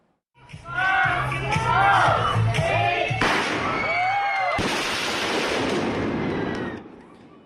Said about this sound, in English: Fireworks and pink smoke were set off at a popular family restaurant, catching other restaurant goers off guard.